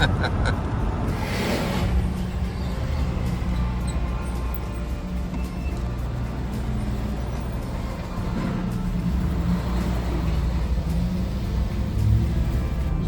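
Truck hauling a trailer carrying a 1975 Plymouth on the Ohio Turnpike, with a steady low engine and road rumble droning continuously throughout, close and fairly loud.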